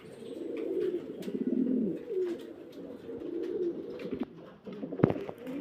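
Pigeons coo in low, rolling, repeated calls close by, with a sharp tap or knock near the end.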